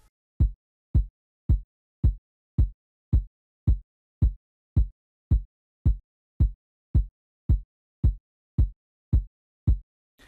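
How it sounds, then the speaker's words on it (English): A main kick drum sample programmed in FL Studio for a Seben beat thumps in a steady, evenly spaced pulse, about two hits per second, each a punchy low boom with a quick decay, alone with no other instruments. "The first kick, the main kick now, it sounds like this."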